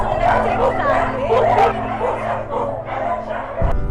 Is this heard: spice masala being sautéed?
no